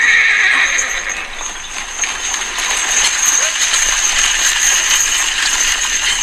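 A horse neighs and whinnies in a movie clip played back and held up to a microphone, sounding thin and reproduced, with some hoof clip-clop and rattling mixed in.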